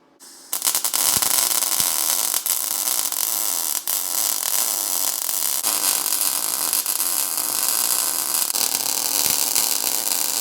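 Steel being arc welded while building a discada cooker, a cowboy wok, giving a loud, steady crackling hiss and buzz that runs without a break from just after the start to the end.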